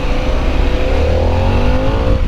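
A 2025 Harley-Davidson Pan America ST sport-touring motorcycle accelerates hard, its engine note climbing steadily in pitch, loud and close throughout, with no talking.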